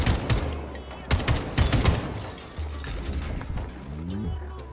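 Bursts of AK rifle gunfire in the shooter game Atomic Heart, close and loud, with clusters of rapid shots through the first two seconds and mechanical clatter and game sounds afterward.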